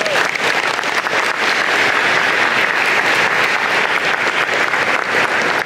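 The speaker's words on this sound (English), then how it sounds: "Give them a big round of applause." A crowd at an engineering and computer science graduation ceremony claps steadily in sustained, dense applause that stays loud throughout, with faint voices mixed into the noise.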